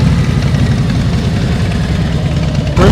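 A motorcycle engine idles steadily and loudly nearby during slow-speed riding practice, a continuous low rumble with a slight shift near the end.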